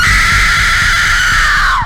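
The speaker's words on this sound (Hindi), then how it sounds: "ये नजारा देख उसकी चीख निकल गई" A girl lets out one long, loud, sustained scream of fright, a horror sound effect held at full strength before cutting off sharply at the end.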